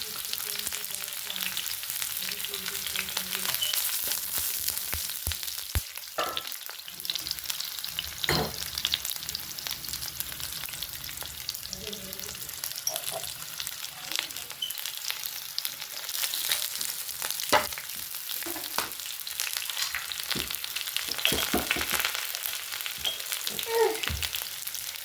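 Shallots sizzle and fry in a pan for a Kerala kurukku kaalan, a continuous crackling hiss broken by scattered scrapes and knocks of stirring.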